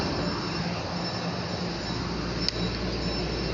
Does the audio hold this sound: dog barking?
no